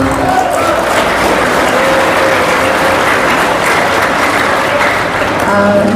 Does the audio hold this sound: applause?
yes